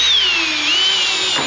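A power drill whines continuously up close as it bores through the doubled sheet-metal roof of an old Chevrolet Squarebody truck for nutserts, its pitch dipping slightly and then recovering under load.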